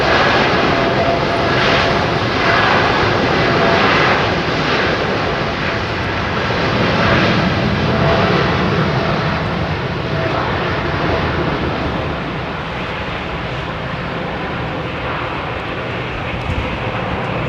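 An aircraft coming in to land at a windy Heathrow Airport, a loud steady engine roar that fills the whole stretch and eases off slightly toward the end, with gusting wind and no talk.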